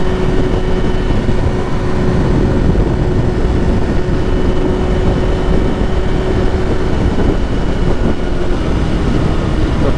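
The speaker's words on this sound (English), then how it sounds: "The bike sounds more throaty," BMW M1000RR sportbike fitted with a full Akrapovic exhaust, its engine a steady, throaty, deep drone held at constant loudness for the whole stretch, likely heard from on the bike while riding.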